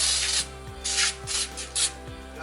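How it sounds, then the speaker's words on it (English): Nonstick baking spray hisses into a 9 by 13 inch pan in four or five quick bursts, close and fairly loud over a low background hum. "here I have a 9 by 13 inch pan, and I'm gonna go ahead and spray it with some nonstick"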